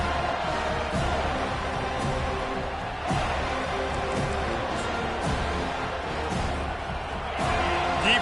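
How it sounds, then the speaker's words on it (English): A football stadium crowd roars throughout a college game, a dense, loud, unbroken wall of noise with faint thumps. "listen to this crowd roar"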